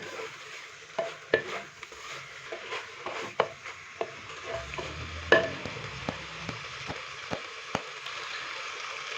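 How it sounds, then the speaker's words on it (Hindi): Finely chopped cabbage is stirred in a frying pan: a continuous light sizzle runs under repeated sharp spatula clicks and scrapes at an uneven, unhurried rhythm, close up with no talking. "बंद गोभी डालने के बाद अच्छे से हम इसको मिक्स करेंगे"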